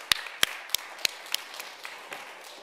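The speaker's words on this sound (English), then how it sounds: "Give her a round of applause." A small audience at a talk on job interview dress gives light, scattered applause: a handful of sharp separate claps, moderately close, fading into softer taps after about a second and a half.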